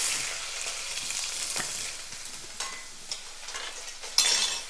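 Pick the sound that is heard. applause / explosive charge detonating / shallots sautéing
shallots sautéing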